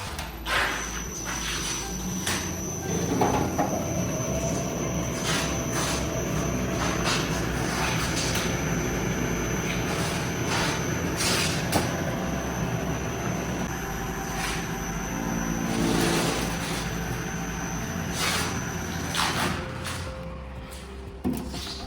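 An industrial vegetable cutter slices bell peppers, giving a loud, steady motor drone broken by repeated bursts of chopping noise throughout, with no voices.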